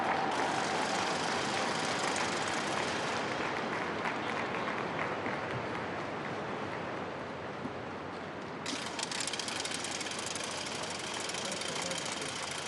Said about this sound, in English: People there giving him some applause.